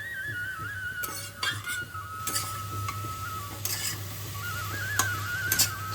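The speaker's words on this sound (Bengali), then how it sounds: "লাউটাকে আমরা ঘিয়েতে ভাজবো। লাউটাকে পুরো শুকনো করে ভেজে নিতে হবে।" Grated bottle gourd frying in ghee gives a soft low sizzle while a utensil scrapes and clinks against the pan in irregular stirring strokes, close and fairly quiet.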